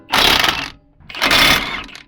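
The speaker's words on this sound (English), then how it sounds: "Now let's remove two bolts, 19 bolts holding the caliper over here." Removing the 19 mm bolts that hold a brake caliper on a truck during a brake kit install: two loud, close mechanical bursts, each lasting about half a second, separated by a short near-silent gap.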